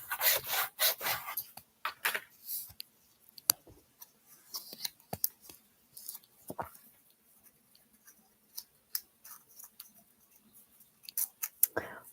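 Sheets of paper for origami are handled, rubbed and creased in a series of crisp, close rustles and sharp crackles, dense at the start and then more scattered, with no talking.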